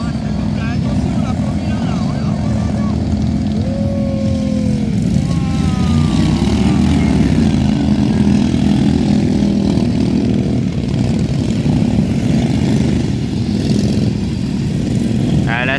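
Racing lawn tractor with a recoil-started engine at a mower race in Saché, its loud steady drone running throughout, with voices talking and calling out over it.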